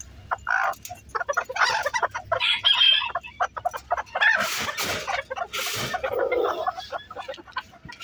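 Farm chickens cluck and squawk in a busy, irregular chorus, with a sharper call or crow rising now and then, close and fairly lively.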